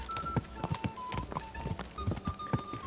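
Horse hooves gallop in a rapid, steady clip-clop rhythm while riding in Kingdom Come Deliverance 2, close and clear over a textured background with faint tonal music.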